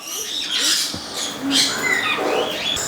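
Harsh, high-pitched squawks and chirps from a tame sun conure parrot, repeated in quick irregular bursts, fairly close with no talking.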